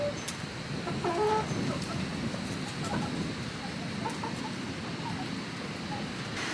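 Hens, including several newly added birds, cluck softly in a coop, with scattered faint clucks and calls over a steady background hiss.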